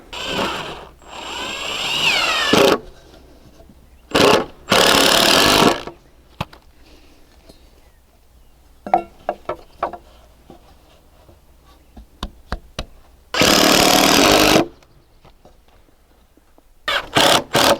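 A power drill drives screws into the wood of a galvanized raised garden bed frame, with loud bursts of whirring near 1 s, 4.5–5.5 s and 13.5–14.5 s and quiet handling clicks and taps between them.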